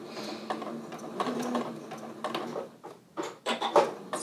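Sewing machine stitching a short cuff sleeve on a dress in several short, close bursts, interrupted by pauses and clicks as the presser foot is lifted and the fabric pivoted.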